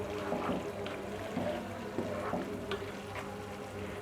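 Tomato masala for Sindhi chicken biryani fries in a pan as yogurt goes in: a continuous close sizzle with faint stirring scrapes and occasional soft splatters.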